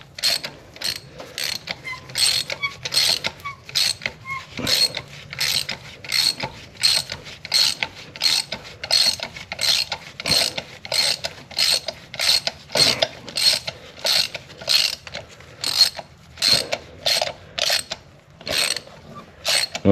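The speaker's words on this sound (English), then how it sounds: "Use a standard ratchet to tighten them down." A standard hand ratchet tightens bolts with damaged threads on a 2010–2014 Ford Fusion, giving close, steady runs of crisp ratcheting clicks in short repeated strokes throughout, with no talking.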